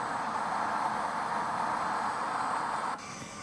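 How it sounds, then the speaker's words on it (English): Simulated Airbus A319 engines roll for takeoff on runway 27 at Los Angeles (KLAX) in the Infinite Flight multiplayer game: a steady, loud broadband roar that drops suddenly to a lower level near the end, with no voices. "United 1123, runway 27, cleared for takeoff."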